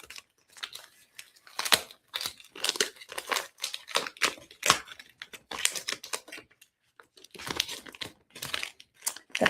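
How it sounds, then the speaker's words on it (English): Tape being pulled, torn and crinkled up close while painting a wooden bunny door hanger, in irregular bursts of ripping and crumpling with quiet gaps between them. "So I'm going to use some of this tape."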